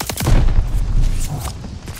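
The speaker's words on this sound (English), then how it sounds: "Allies calling a mortar barrage." A mortar barrage in Call of Duty Vanguard multiplayer sets off a dense run of loud, booming impacts and rapid blasts that overlap in close succession before easing slightly.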